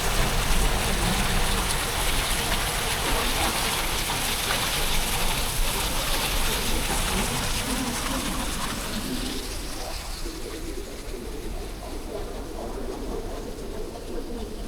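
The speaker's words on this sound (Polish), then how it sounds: "No ja żartobliwie zawsze powtarzam, wodospad Niagara, piaseczny." A small weir on the Jeziorka river in Piaseczno pours as a steady broadband wash of falling water that fills the whole stretch, easing slightly in the second half, with faint bird calls mixed in.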